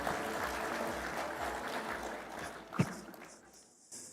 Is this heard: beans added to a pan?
no